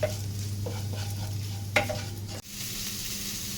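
Crushed chilies sizzling in hot oil in a frying pan, with a steady crackling hiss throughout, a brief stirring scrape and a faint hum beneath.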